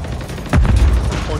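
A grenade blast in the Call of Duty Modern Warfare III multiplayer game, one loud, deep boom with a rumbling tail amid ongoing gunfire, close and heavy.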